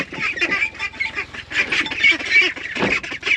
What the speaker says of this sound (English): we've been putting the ducks out in the daytime in their like halfway house